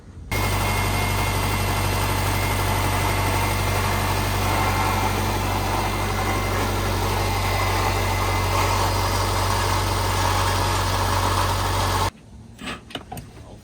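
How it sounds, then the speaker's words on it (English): A 2006 Subaru Forester engine with a bad knock idles steadily up close, a constant mechanical drone that holds for about twelve seconds before cutting off, followed by a few faint clicks. "This is a 2006 Subaru Forester, and we're going to replace the engine because it is knocking pretty bad."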